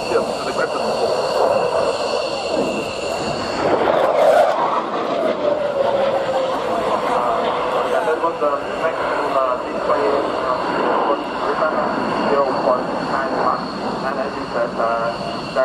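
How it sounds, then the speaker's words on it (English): A Saab Gripen jet fighter's engine roars steadily overhead at an air show, a sustained broadband rush that swells and slowly shifts pitch; someone talks over it. "A very capable little aeroplane being driven there, greatest in the long line of Saab fighters"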